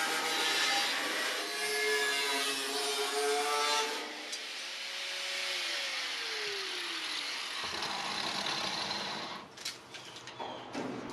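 A power tool cutting and trimming a car hood panel to fit hinges on an LS V8 Triumph GT6 build, a steady loud whine and grinding with shifting pitch throughout and no talk.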